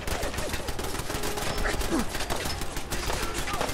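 Gunfire in the Fallout 4 video game, rapid bursts of shots and automatic fire from turrets crackling steadily throughout, with someone talking intermittently over the shooting.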